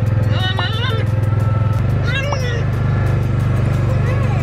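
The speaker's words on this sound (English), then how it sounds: "I'm gonna let her get used to the engine a little bit." A vehicle engine idles steadily after starting, a low rumbling hum that shifts slightly in pitch partway through, with people talking over it.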